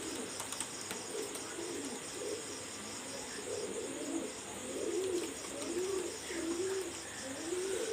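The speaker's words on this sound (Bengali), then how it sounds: "এই জোড়াটা পিওর ব্লাড লাইনের কবুতর" A pair of pure-bloodline Pakistani high flyer pigeons coo in soft, repeated rolling phrases close by, with a steady chirr of insects behind them.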